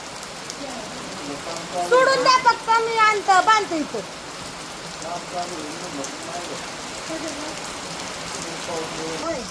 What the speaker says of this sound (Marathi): लय पाऊस आलाय जवळ